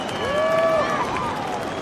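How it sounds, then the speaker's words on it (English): A crowd at a snowboard competition roars and cheers continuously, a broad wash of noise with a commentator's excited voice rising over it. "Crowd just going absolutely wild"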